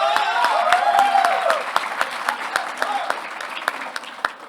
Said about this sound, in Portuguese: Então, palmas para o Danilo.